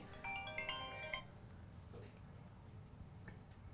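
A mobile phone ringtone chimes during a podcast-style show recording, a short bright melodic burst of repeated tones in the first second, then a quiet room with faint talk.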